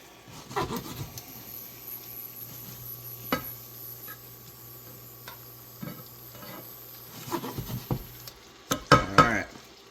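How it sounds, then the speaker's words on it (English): Shrimp sautéing in butter and garlic in a pan for a creamy pasta, heard as intermittent stirring clinks and scrapes over a faint sizzle, close up, with a steady low hum behind and a burst of louder utensil clatter near the end. "Make sure all of the shrimp gets coated with the butter and the garlic."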